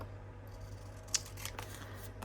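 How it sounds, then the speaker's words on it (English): Scissors cut out a small paper label for a handmade junk journal folio, giving a quiet soft snipping with one sharper snip in the middle of an otherwise hushed room. "And then we'll cut out this little"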